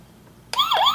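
Toy ladder fire truck siren starting abruptly after a short quiet moment, a loud electronic wailing tone that sweeps down and back up, close and alone.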